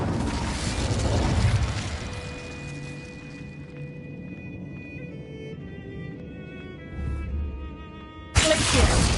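An Incendio fire spell in Hogwarts Legacy bursts with a loud whoosh, then a sustained fiery rumble with ringing tonal shimmer, ending with another sharp blast.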